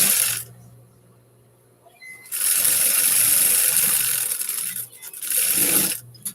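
A sewing machine stitches a leather clutch in close, steady runs: a brief burst at the start, a long continuous stretch of about two and a half seconds, then another run after a short pause.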